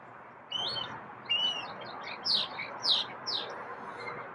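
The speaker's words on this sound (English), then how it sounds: "Birds I don't recognize, at least the sounds." Several birds chirp and whistle in short, sweeping calls over a steady outdoor hiss, the calls growing sharper toward the end.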